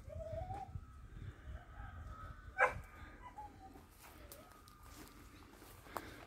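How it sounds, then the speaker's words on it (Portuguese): An angry dog barks on a rural property in Santa Catarina, Brazil. The barks are faint and distant, with one sharper bark standing out over quiet outdoor background noise. "o cachorro tá bravo ali"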